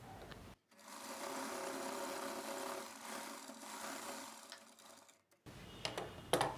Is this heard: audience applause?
no